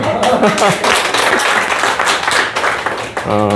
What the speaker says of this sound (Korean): 박수 한번 하고 갈까요?